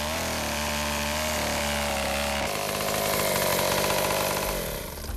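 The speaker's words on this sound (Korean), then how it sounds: "오래 화력을 유지하기 위해 나무는 1m 정도로 크게 자른다." Chainsaw cutting thick wood logs into roughly one-metre lengths for kiln fuel in a Lao salt-making village, a loud continuous engine whine that deepens as the blade bites into the wood.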